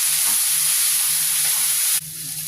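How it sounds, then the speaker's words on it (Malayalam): Garlic, chopped ginger, green chili and curry leaves sautéing in a pan, a steady close sizzle and hiss that drops slightly softer near the end, with no talking. "വെളുത്തുള്ളി, ഇഞ്ചി അരിഞ്ഞത് ചെറുതായിട്ട്, പച്ചമുളക്, കറിവേപ്പില ഇത് നല്ലോണം വഴറ്റിയെടുക്കാം"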